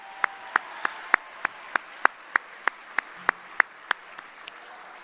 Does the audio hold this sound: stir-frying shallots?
no